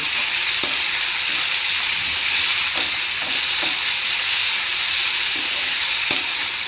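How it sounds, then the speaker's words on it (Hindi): Vegetables for sooji upma sizzle steadily in a pan on a medium flame, a continuous close frying hiss with occasional soft stirring knocks and no talk. "सॉफ्ट होने तक की ही सब्जियों को हमें भूनना, ज़्यादा नहीं पकाना है"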